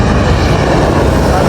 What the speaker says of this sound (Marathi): जवळ आहे विमान